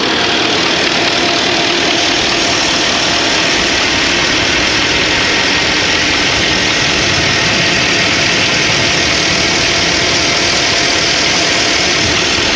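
A car engine idles loudly up close, with a dense, continuous mechanical clatter and steady ticking texture under a broad hiss.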